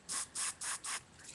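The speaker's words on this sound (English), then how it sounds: "Take some Axe and spray it" Axe body spray is sprayed into a lighter in four short hissing bursts, each about a fifth of a second long with brief gaps between them, close and fairly quiet.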